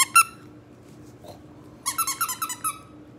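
A squeaky plush lamb chop dog toy squeaks twice near the start, then squeaks in a quick rhythmic burst of about seven sharp, close, fairly loud squeaks, with quiet room tone between.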